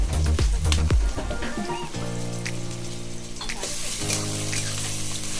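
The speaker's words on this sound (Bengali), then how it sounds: "পেঁয়াজ দিয়ে দিলাম। এগুলোকে আমরা ভালো করে ভেজে নেব।" Onions and bay leaf fry in a pan for a home chicken curry, giving a steady, close sizzle with crackling spatters and a few clinks of utensils at the start; nobody talks.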